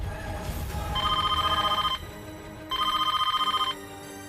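Telephone ringing with an incoming call, two bursts of an electronic bell-like ring separated by a short pause, clear and alone with faint background.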